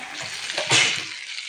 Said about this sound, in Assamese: ধুনিয়াকৈ ভাজিলো ভাজি ভাজি লৰাই লৰাই ভাজি আছো